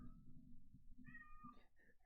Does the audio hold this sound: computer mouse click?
no